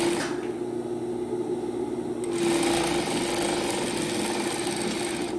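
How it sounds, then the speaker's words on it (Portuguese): A sewing machine running steadily at close range, stitching a short seam in a continuous rapid mechanical whir that picks up in intensity partway through, with no talk. "venho com uma costurinha de um pezinho de máquina"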